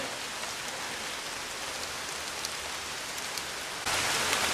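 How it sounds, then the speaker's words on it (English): Steady rain falls at a temple site in Cambodia, a dense continuous hiss with scattered drops, growing slightly heavier and closer near the end, no voices. "Second day experience of rain."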